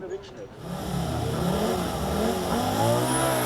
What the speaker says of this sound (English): its new engine sound was a feast for the ears right from the start